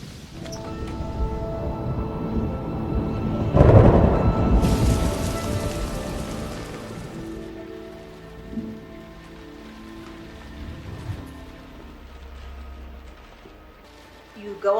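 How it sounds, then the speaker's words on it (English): Steady rain pours down in a 1960s Jackson, Mississippi film scene, a dense close hiss with heavier bursts, while voices talk over it. "it's just a little rain."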